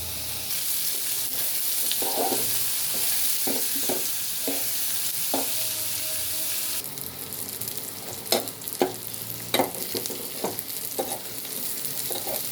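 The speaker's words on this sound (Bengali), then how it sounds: "পেঁয়াজ আর কাঁচামরিচ দিয়ে এইগুলো তেলে ব্রাউন কালার করে নিব" Garlic, onion and green chili fry in oil, giving a continuous close sizzle with repeated clinks and scrapes of a stirring utensil, growing busier toward the end.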